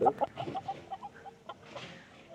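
Several farm chickens and roosters, black and white, cluck close by in quick, uneven bursts, with softer clucks trailing off in the background.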